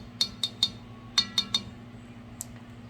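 A metal spoon clinks sharply against a pot of cornmeal while butter is added: two quick sets of three bright taps, then one lighter tap, close and fairly loud over a steady low kitchen hum.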